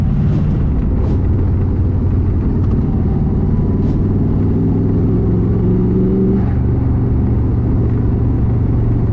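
A long-neglected old carbureted engine revs loudly and close, a continuous rumbling drone with rising and falling pitch and no talking.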